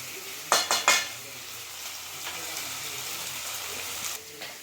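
Tomatoes with a pinch of turmeric powder frying in a pan for a chicken liver gravy, with a few sharp utensil clinks early on over a steady, close sizzle.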